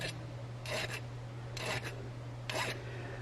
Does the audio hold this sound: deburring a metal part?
yes